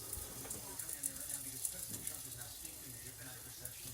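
Green onions frying in a pan for a crustless quiche, a faint crackling sizzle with light stirring, under quiet talk.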